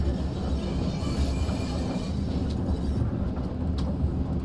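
Train Sim World 2 locomotive rolling slowly along rails at about 10 miles an hour during shunting and yard work, giving a steady low rumble with continuous wheel-on-rail noise and faint clicks, near and unbroken.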